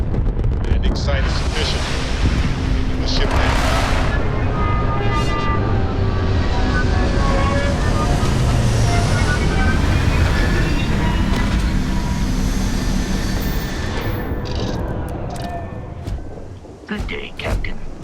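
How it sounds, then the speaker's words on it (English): A spaceship touches down in the sci-fi video game Starfield with a loud sustained roaring rumble of engines and thrusters that holds steady before tapering off, with a few thuds and voices near the end. "Landing site is sufficient. The ship landing."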